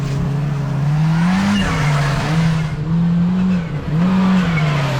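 A Kawasaki Teryx5 H2 side-by-side on a trail, its engine droning loudly and close in low gear, the pitch rising and dipping slightly as the throttle shifts over steady tyre and terrain noise.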